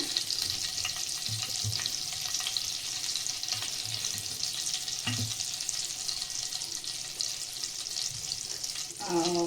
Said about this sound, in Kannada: ಆಯಿಲಿಗೆ ಬಟರ್ ಹಾಕ್ಕೊಂಡಿದ್ದೀನಿ ಪನ್ನೀರನ್ನ ಫ್ರೈ ಮಾಡ್ಕೊಳ್ಳೋದಕ್ಕೆ.